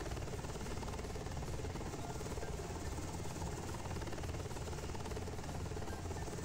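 Rotor and turbine drone of an H-60 Black Hawk helicopter in Microsoft Flight Simulator, a steady, dense, broadband whine and thrum holding at an even level throughout, with no voices.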